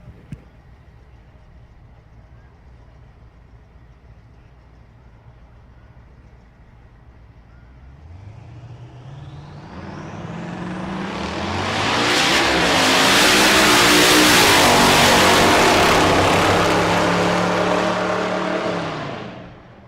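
A Mazda Miata race car at a race day approaches from a distance, its engine rising from a faint hum to a loud revving roar as it passes close, then starts to fade away.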